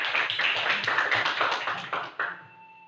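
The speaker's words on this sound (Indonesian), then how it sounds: "Tepuk tangan dulu anak-anak semuanya." Schoolchildren in a classroom clap hands together in a quick, lively rhythmic pattern of bursts, moderately loud and fairly close, before the clapping stops and a faint tone lingers.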